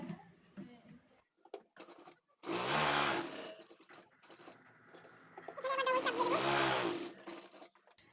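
A sewing machine stitches a prayer hijab with sleeves in two loud, close bursts of rapid whirring, separated by quieter handling of the fabric.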